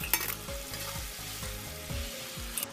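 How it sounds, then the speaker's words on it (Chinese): Crayfish frying in very hot oil for a short par-fry, a dense continuous sizzle with stirring clatter and bubbling throughout, close and fairly loud with no talking. "油温一定要高，过油时间大概20秒左右"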